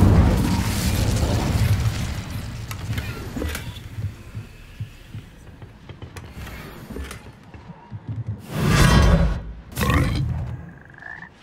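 Hogwarts Legacy gameplay in which the Incendio fire spell is cast, producing a dense low rumbling whoosh and crackle at first. Later come two loud, booming bursts of flame, with no talking.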